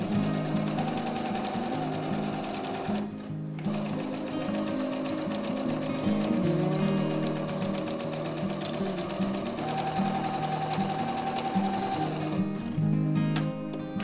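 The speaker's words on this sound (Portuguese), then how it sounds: "E agora eu só vou passar uma costura aí na ponta." Polyester-threaded sewing machine with a size 14 needle stitching a seam along the edge of fabric for a panettone holder, a steady loud mechanical whirr running continuously for about fourteen seconds with two brief pauses.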